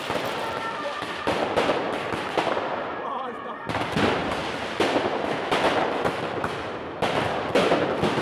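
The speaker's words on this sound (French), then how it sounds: "on a vu encore la nuit dernière des tirs au mortier, les feux d'artifice dans tous les sens" Fireworks and mortar shells burst at night in a city, a near-continuous series of sharp cracks and booms with brief lulls, loud and echoing, with voices faintly underneath.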